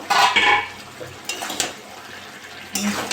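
Prawns and mixed vegetables for a Bengali chorchori being stirred in a pan, with a few short bursts of scraping and clatter separated by quieter gaps, close and moderately loud.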